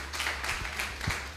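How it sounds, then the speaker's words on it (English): Brief burst of audience clapping at a group meet-up in Kaduna, a dense patter of hands with a low hum underneath, lasting only a moment. "Can we clap for him?"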